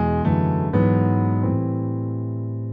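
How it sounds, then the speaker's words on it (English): Piano chords in C walking up to the six chord, three sustained struck chords in a row, each rich and ringing before the last one decays alone. "We're going to do a walk up to the six"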